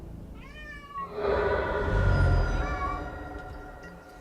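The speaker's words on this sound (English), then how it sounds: "Hey, kitty." A cat gives a drawn-out, warbling meow up close, rising then falling and fading over a few seconds, with a faint background hum.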